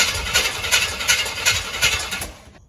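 A 1966 Chevy big block truck engine cranks with a rhythmic, pulsing churn that catches into a rough, throbbing run, loud and close, before cutting off abruptly.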